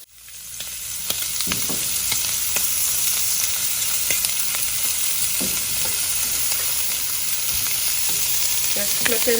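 Steady, loud sizzling of shrimp skewers on a grill as green chili sauce is basted on, a continuous hiss with scattered crackles and pops, close up and without talking.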